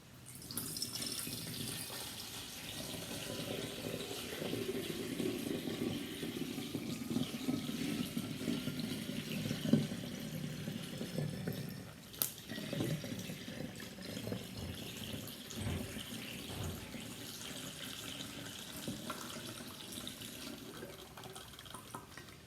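A steady stream of liquid pours quietly, a soft continuous trickle and splash lasting over twenty seconds with small fluctuations and an occasional drip or knock, faint and without voices.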